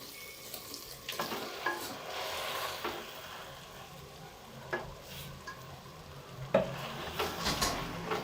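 A spoon stirs fried bitter gourd and chicken in a pan, scraping and clacking in irregular strokes over a soft continuous sizzle, close and without talk.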